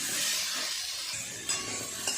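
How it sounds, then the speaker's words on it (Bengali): Cauliflower and mixed vegetables fried in a pan and stirred, a loud continuous sizzle close up with scraping spatula strokes and occasional clinks, no voices. "খুব ভালো করে সমস্ত সবজিগুলো আর একটু ভেজে নেব।"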